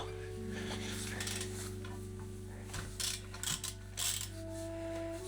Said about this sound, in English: I only need a 70mm socket to remove these 5 screws.